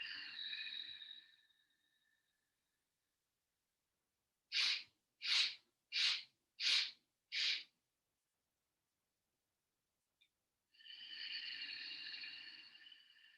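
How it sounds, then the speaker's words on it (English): Five quick, evenly spaced sniffs drawn up through the nose during yoga breathing, framed by long slow audible breaths before and after, close and in a quiet room. "So we sniff the air up 5 times"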